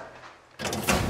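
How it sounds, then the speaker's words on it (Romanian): A door opening in an escape-room kitchen set: a soft low hum gives way to a sudden rushing slide and a louder mechanical whoosh that holds to the end, close and with no talk. "ușa din dreapta ta se va deschide acum"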